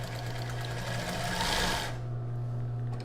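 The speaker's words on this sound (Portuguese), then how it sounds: "Agora eu dou um retrocesso no final." Close and steady, a sewing machine hums as it stitches and backstitches at the end of a seam on a plus-size bra, then the high whir cuts off as the run stops.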